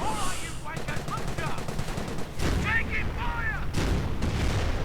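A Henschel ground-attack aircraft makes a strafing run in a World War II strategy video game, rapid cannon and machine-gun fire mixed with booming explosions and battle noise, under a commentator's voice.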